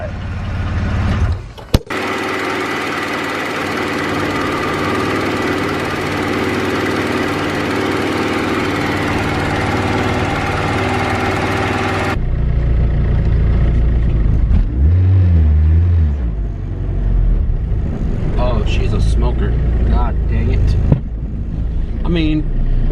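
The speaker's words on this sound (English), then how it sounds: "Not bad for a junkyard motor, yeah?" Engine of a Kawasaki KRX side-by-side fitted with a junkyard motor, loud and close, running steadily before changing to rougher revving, with voices talking over it in the later part.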